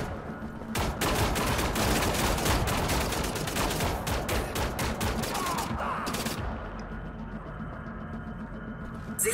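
Sustained rapid gunfire from a weapon in the video game Wolfenstein, dense loud continuous shots for several seconds before cutting off into quieter game ambience.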